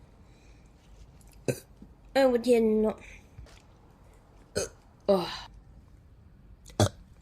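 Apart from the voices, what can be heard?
A VTuber burping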